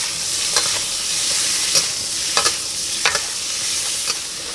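Buah kepayang being stirred and fried in a pan, with a steady sizzle throughout and several sharp scraping strokes of the spatula at irregular intervals.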